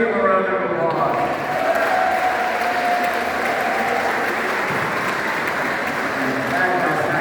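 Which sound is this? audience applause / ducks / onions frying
audience applause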